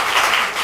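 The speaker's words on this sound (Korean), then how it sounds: "우리 박수 한번 하겠습니다." Brief burst of applause from a church congregation during a Sunday worship service, a dense steady patter of many hands clapping at once, fairly close, with no talk over it.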